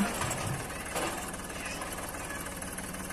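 Massey Ferguson tractor engine running steadily in low gear, a continuous dense mid-range drone with a slight surge near the start, fairly loud and unbroken throughout.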